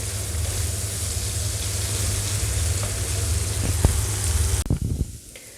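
Chicken sizzling steadily as it fries in a pan, a loud continuous crackle with a couple of brief clinks near the end before the sizzle drops away.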